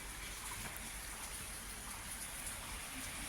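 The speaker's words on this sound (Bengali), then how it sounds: "বৃষ্টি পড়ছে," A steady, even rain falls on a Monday morning in Kalimpong, a dense wash of close patter with no break and no voices over it.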